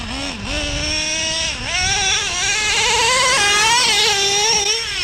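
Small Traxxas Nitro Revo 3.3 nitro RC car engine whines loudly and steadily, its high buzzing pitch rising and falling as it shifts through a 2-speed transmission while driving over sand, with a brief dip near the start.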